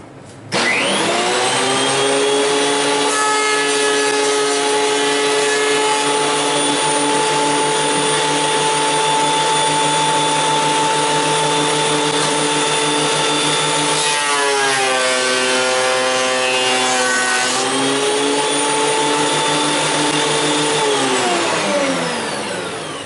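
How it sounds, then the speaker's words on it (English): A wood planer whines loudly as a board feeds through it. The motor starts abruptly, holds a steady harmonic drone, dips in pitch under load midway, then recovers and winds down near the end. "it should be good to go to run through the planer"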